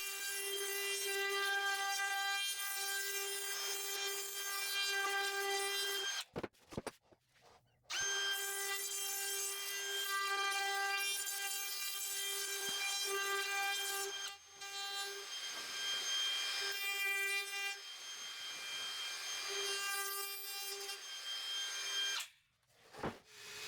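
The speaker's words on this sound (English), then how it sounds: "Finally, I got it all sanded." A power sander works across a pallet wood bench top, a loud steady whine that runs almost continuously with a few brief pauses.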